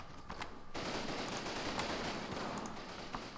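Automatic gunfire in the WWII strategy game Combat Mission: Fortress Italy, a steady rattle of machine-gun and rifle shots at moderate distance, continuous for several seconds with a few sharper cracks.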